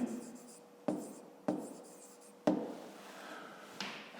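Pen or pencil scratching across paper while a maths exercise is worked out, in three or four close bursts of writing separated by brief pauses, with faint room noise between strokes.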